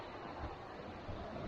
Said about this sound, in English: I can hear the water.